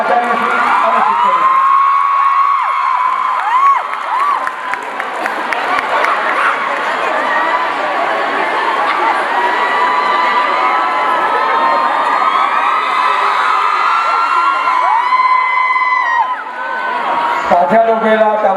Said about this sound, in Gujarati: જોરદાર તાળીઓ સાથે આવકારીએ આચાર્ય અને શિક્ષકો.